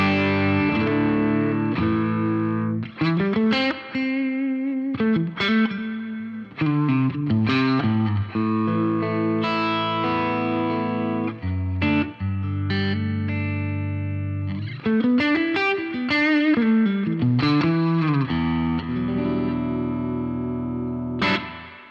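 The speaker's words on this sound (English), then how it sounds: "so there's the Two-Rock Classic Reverb Signature." Electric guitar played through a Two-Rock Classic Reverb Signature amplifier with reverb engaged, a clean, lush tone carrying chords and single notes continuously and close up, with no talking.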